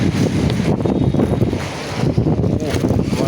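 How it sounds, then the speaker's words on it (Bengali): Strong wind with heavy rain battering an umbrella, a loud, dense, close roar of gusts and driving drops that keeps going without a break. "অনেক বাতাস, অনেক বৃষ্টি"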